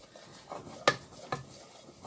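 Plain flour being stirred into a paste in a pan, heard as quiet scraping with a couple of sharper utensil knocks against the metal.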